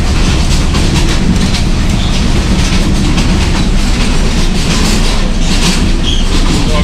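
A Jand passenger train rolls along in Pakistan, heard from inside the guard van: a loud, continuous rumble with rattling and clattering wheels on the track throughout.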